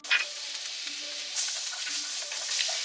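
Butter sizzles steadily in a hot pan on medium heat, a close, even hiss with slight crackling swells and no talking.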